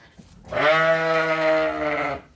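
A ewe in false labor gives one long, loud, wavering bleat lasting nearly two seconds, close to the listener, after a brief quiet start in a lambing barn.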